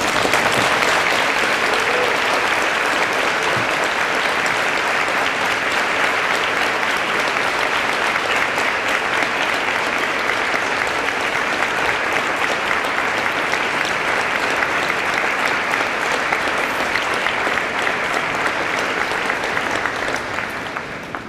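Sustained, dense applause from a graduating class of 2010 at an optometry commencement ceremony, clapping for their families and friends; steady and loud for about twenty seconds, fading slightly at the end.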